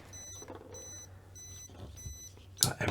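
Electronic speed controllers and motors on a Flysky G7P dual-ESC setup emit repeated high, thin beeps in short regular bursts, fairly quiet and close, followed by a sharp clunk at the end.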